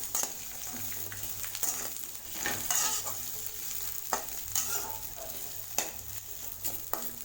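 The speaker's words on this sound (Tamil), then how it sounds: "லோ ஃப்ளேம்லேயே வச்சு பாவக்காவை நல்லா எண்ணெயில் வதக்கி விட்டுக்கலாம்." Bitter gourd sautéing in oil in a pan over a low flame gives a soft, continuous sizzle, broken by periodic scraping and clicking strokes of a stirring spoon, close and without talk.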